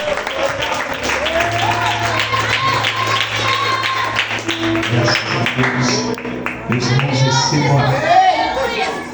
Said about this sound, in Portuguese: Vou receber o homem de Deus para as palmas.